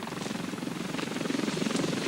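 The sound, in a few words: recovery helicopter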